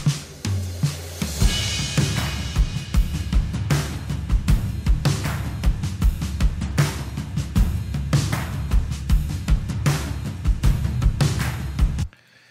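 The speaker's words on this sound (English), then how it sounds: "Shaker, live played, not quantized at all. Some tambourine and some tambourine hits." Mixed percussion and drum track from a studio recording, with live-played, unquantized shaker and tambourine hits layered over programmed drums. Steady, loud rhythmic hits and bright jingling run throughout, then stop abruptly near the end.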